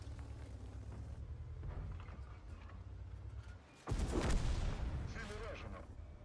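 In World of Tanks, a KPZ EK I tank cannon fires one loud, sharp blast that rolls into a booming rumble, following a steady low engine drone.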